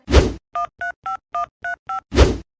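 Telephone keypad dialing tones: seven short, evenly spaced DTMF beeps in a quick sequence, framed by a louder thump before and after, close and clear with no talking.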